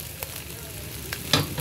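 Pulao of rice, vegetables, mung and masala is stirred in a sizzling pan, with a steady frying hiss and a few scraping knocks of the spoon, the last one loudest, close and without talk.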